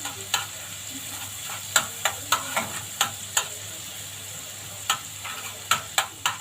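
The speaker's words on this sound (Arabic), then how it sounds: "تشويحتين كده في السمنه" Chicken liver and gizzards sautéing in ghee in a home pan, a faint steady sizzle broken by sharp repeated clicks of stirring every second or so.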